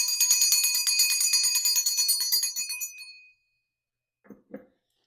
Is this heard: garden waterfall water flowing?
no